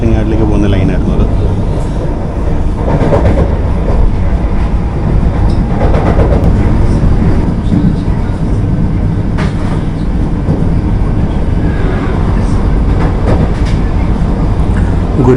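The Guruvayur Madurai Express rumbles past on the line near Ernakulam, heard from aboard a moving train as a loud, continuous roar with rhythmic rail clatter, while a voice talks over it.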